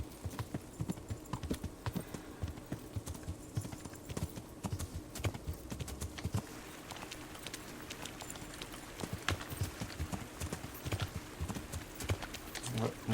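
Galloping horse hooves from the medieval video game Kingdom Come: Deliverance pound steadily in a fast, continuous clip-clop through the countryside, with a player talking over them.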